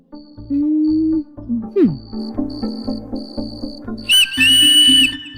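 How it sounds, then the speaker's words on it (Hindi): A whistle shrills in long and short sustained tones over a steady, pulsing rhythmic background, closing with a brighter, louder blast near the end; no clear talk is heard. "और तो सीटी बजा पॉय पॉय"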